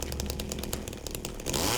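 Chainsaw revving steadily in Silent Hill 2, a loud, continuous buzzing engine drone with rapid pulsing, surging higher toward the end.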